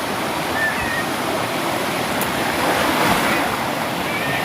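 Water falls at Migum, a constant roaring rush that fills the whole clip loudly and evenly, with a faint high tone briefly cutting through and no speech.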